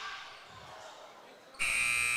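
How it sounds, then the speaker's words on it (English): A loud, sustained final buzzer at a high school girls' basketball game between the Lady Bears and McLean cuts in sharply after a stretch of crowd murmur and holds steady to the end. "And that's it. Final buzzer."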